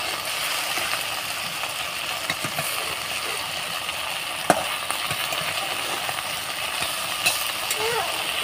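Okra and fish roe frying in a pan give a steady, broad sizzle that holds throughout, with a few scattered clicks and light stirring knocks and faint background sounds.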